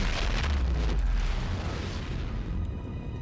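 A deep, rumbling boom-like whoosh from a man cannon launch in Dead Space 3, sustained and fairly quiet, fading slowly over a few seconds.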